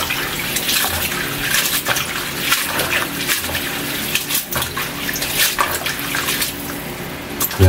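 Tap water runs steadily while fresh pansit noodles are rinsed, a continuous splashing flow with scattered louder splashes and no talking.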